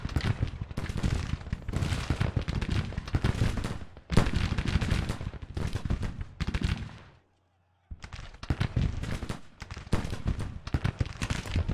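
Dense musket and rifle volleys in a Grand Tactician Civil War video game battle, loud continuous crackling fusillades with one brief pause before the firing resumes, a voice speaking faintly beneath.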